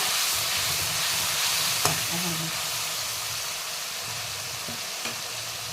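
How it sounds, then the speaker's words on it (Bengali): Spices fry in a pan after a little water is added, giving a steady, close hiss and sizzle with a couple of sharp spits and faint stirring scrapes, with no talking. "এবার একটু জল দিয়ে দেব যাতে মশলাগুলো জ্বলে না যায়।"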